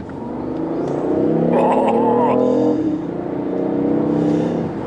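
BMW i8 hybrid sports car accelerating hard from a standstill, a loud sustained engine and motor roar rising in pitch and swelling toward the middle before easing off, close by with no talk.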